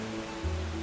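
Steady broadband rush of Looking Glass Falls, a 60-foot sheer drop into a pool, heard as continuous even water noise with a low hum, alone and without voices.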